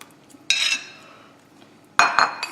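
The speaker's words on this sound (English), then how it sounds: "I'm just going to pour in our batter, our egg idli batter, and I'm going to smudge it in a little bit" Egg idli batter is spread into a greased mold with a utensil, making two bursts of close clinking and scraping against the dish separated by a quiet pause; no one speaks.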